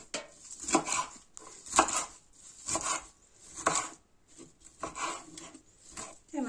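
A knife chops short, tender shoots of wild chicory into pieces. The cuts come as crisp, close knocks against a board at a roughly even pace of about one per second, with quiet rustling in between.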